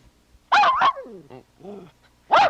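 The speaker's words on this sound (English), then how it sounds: "Gene, we've been visited in the balcony by Spot the Wonder Dog once again" A dog in a movie-theatre balcony set of a film-review TV show gives two sharp, close barks separated by a few softer whimpering yips.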